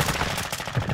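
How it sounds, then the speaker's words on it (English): Rapid automatic gunfire crackles in Call of Duty: Modern Warfare II, a dense, fast burst of shots lasting about a second at moderate volume. "Bro, I'm getting shot at right now."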